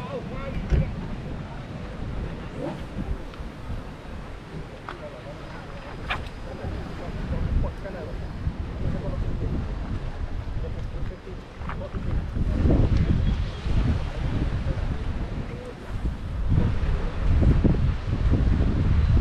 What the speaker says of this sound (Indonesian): Angin pun kuat lah hari ni.